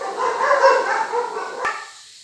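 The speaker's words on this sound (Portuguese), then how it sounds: "aqui é muito cachorro, me perdoe" Several dogs barking in short yapping bursts, fairly near and moderately loud over a brief stretch, then fading away.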